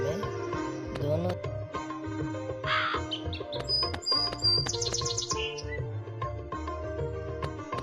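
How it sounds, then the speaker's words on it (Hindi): A cartoon crow caws in a few harsh, repeated calls over steady background music, with light chirping mixed in. "मीना बार बार कौवे को दौड़ाती और भगाती रही।"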